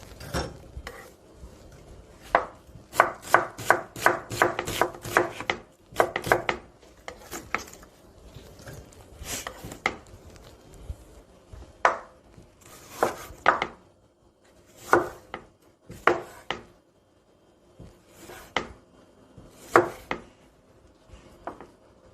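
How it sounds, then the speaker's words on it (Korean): Onion being finely chopped with a knife on a cutting board, bursts of rapid, close knocks followed by scattered single strikes and pauses, no talking. "양파를 좀 좀 잘게 썰거든요."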